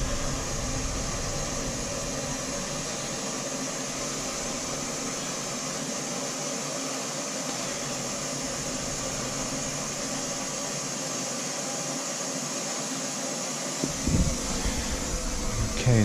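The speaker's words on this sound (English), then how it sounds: "I hear more air coming out of that little bleeder." Air hisses steadily out of a small bleeder valve while domestic hot water piping is purged, a constant broadband rush that holds for the whole stretch, joined near the end by a brief clunk and stir.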